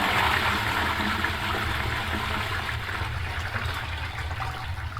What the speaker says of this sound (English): so that's toilet filling